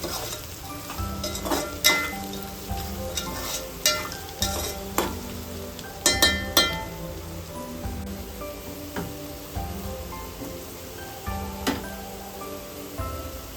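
Sliced onions for prawn biryani fry and brown in hot oil, a continuous crackling sizzle punctuated by repeated metallic scrapes and clinks of a spatula stirring the pan, heard up close with no speech.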